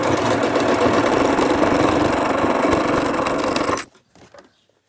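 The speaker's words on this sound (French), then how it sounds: "je vais piquer en faisant bien attention d'être dans cette couture" A sewing machine runs steadily and loudly, stitching along a seam in a baby beach poncho, then stops abruptly, leaving a few faint handling sounds.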